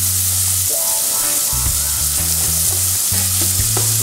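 Vegetables frying in a pressure cooker pot while making Chinese-style fried rice, with a steady close sizzle and intermittent stirring clatter throughout, no talking.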